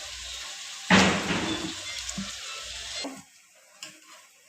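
A hand masher breaks down softened, pressure-cooked vegetables for pav bhaji, giving a few soft, irregular knocks and squelches against the cooker pot, fairly quiet and close.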